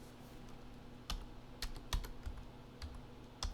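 Typing on a computer keyboard indoors, scattered irregular key clicks with a few harder taps over a steady low hum, close and moderately quiet, no voices.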